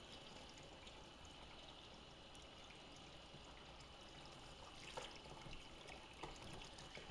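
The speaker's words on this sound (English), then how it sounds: "And what we're going to do is just let it fill up with water." Water running steadily into a bucket of wood ash being washed for pottery glaze, a faint continuous pouring and trickling with no talk.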